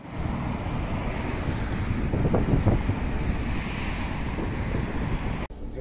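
Strong wind roars and buffets the microphone continuously during an electric scooter ride through Tallinn at up to 27 km/h, a loud, steady rushing noise with brief gusty swells and no voices.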